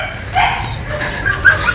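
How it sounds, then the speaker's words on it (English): A dog barking at someone in a yard beside a shed being plastered, short muffled yips and whimpering barks at moderate distance over a low background hum. "that's the dog barking at Mark,"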